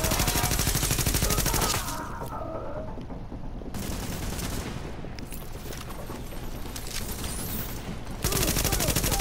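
Gunfire in Tom Clancy's The Division, heard as dense, loud rapid automatic bursts at the start and end, with quieter scattered shots between them, including a sniper shot.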